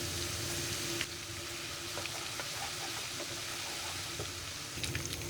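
Cumin seeds and garlic-ginger paste frying in ghee: a continuous, even sizzle, close and moderate, with faint stirring clicks near the start and end and no talking.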